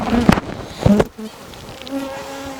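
A close, steady buzz of honeybees on a hive frame hums throughout, broken by a couple of brief louder bumps near the start.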